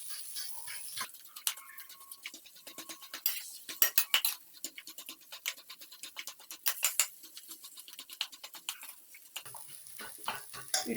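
A metal spatula mixes and mashes cooked vegetables in a pan for vegetable chop, giving steady close scraping, tapping and squishing strokes in an irregular rhythm, with no talking.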